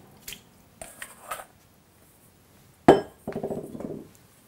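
Wet additions to rye bread dough in a bowl, with warm water and a soaked old-bread mash going in: a few scattered clinks and drips, then a sharp knock and a soft, squishy slop close by.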